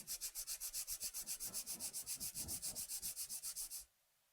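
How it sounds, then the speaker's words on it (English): A nail file rubs rapidly back and forth across a fingernail, about two dozen quick, evenly spaced rasping strokes close up, stopping abruptly near the end. "My first step in filing is straight out from the nail groove on the left."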